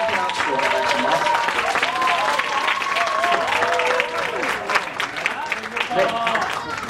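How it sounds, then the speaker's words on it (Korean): Audience applause greets a student council group walking onto the stage at a university academic festival, a steady dense clapping that fills the hall for several seconds while a host's voice speaks over it. "네, 큰 박수 부탁드립니다."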